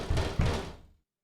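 Two firm knocks land on a door in a video game, close and loud, and then silence follows.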